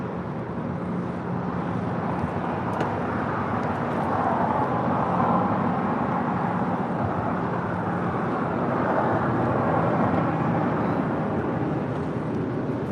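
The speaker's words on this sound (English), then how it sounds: "United 777 heading to Honolulu, taking off there on the north side." A United Boeing 777 airliner bound for Honolulu takes off from the north side of an airport, heard as a distant, steady, broad roar of jet engines that swells slightly and never drops away.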